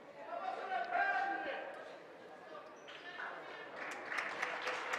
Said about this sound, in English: she gets a nice round of applause